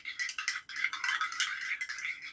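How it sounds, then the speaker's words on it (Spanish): A spoon stirs lemon tea in a glass with quick, bright clinking and rattling strokes that carry on steadily and loud, close up, with no talking. "Lo revuelve bien,"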